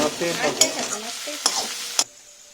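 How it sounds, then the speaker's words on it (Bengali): Ginger garlic paste frying for chicken biryani is stirred in a pot, with a few sharp scrapes and knocks of the spoon over a soft sizzle, stopping abruptly near the end. "আদা রসুন পেস্ট দেওয়ার পর 3 থেকে 4 মিনিট নাড়বে। ভালো করে নাড়তেই থাকো।"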